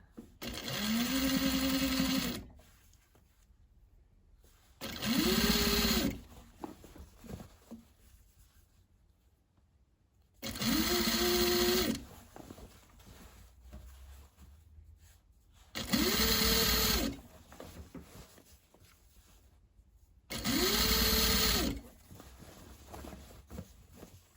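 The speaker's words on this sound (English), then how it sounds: "lay the garment or the bag flat on the machine bed, making sure you don't stretch that, and then pull the binding a little bit as you sew." A sewing machine stitches binding onto a fabric bag in five separate bursts, each a few seconds of steady whirring motor and needle chatter with quiet pauses between, close and clear without voices.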